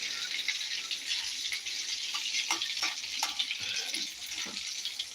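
Corn samosa filling is stirred in a hot pan, a bright continuous sizzle broken by scattered scraping and rattling strokes of the spoon, close and fairly loud, with no talking.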